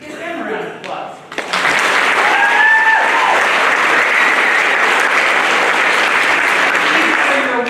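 Audience at a spring school band concert breaks into applause after a brief spoken introduction, the clapping rising suddenly into a loud, steady wash with a few whoops.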